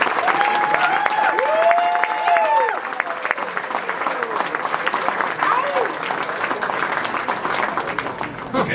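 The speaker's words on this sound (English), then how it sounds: "give a warm round of applause to Kevin Chin from Lake Isle" Warm audience applause for Kevin Chin of Lake Isle, winner of the 2019 Deacon Palmer Award, a dense steady clatter of many hands filling the room, with an amplified voice speaking over the clapping.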